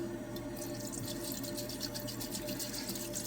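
Distilled water pours steadily into a container for gold scrap refining, a continuous trickling, splashing wash over a low steady hum, close and moderately loud with no talk.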